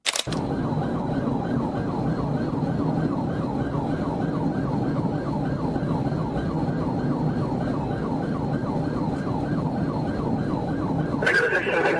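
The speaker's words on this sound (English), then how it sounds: "activated emergency lights and sirens" A loud police car siren wails continuously in rapid rising-and-falling cycles close by during a high-speed pursuit, with engine noise beneath and a shift in tone at the end.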